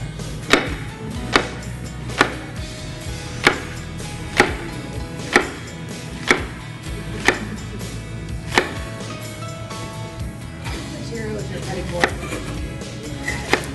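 A knife chops zucchini on a hard plastic granite-look cutting board in a steady series of about a dozen sharp, evenly spaced knocks, close and alone without talk.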